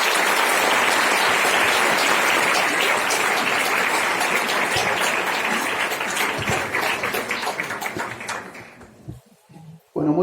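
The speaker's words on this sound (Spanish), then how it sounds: "Les pido un aplauso enorme para los dos." A live audience at an evening talk in Mexico City in 2019 applauds two speakers. The dense clapping stays steady for about eight seconds, then thins and dies away, leaving brief quiet.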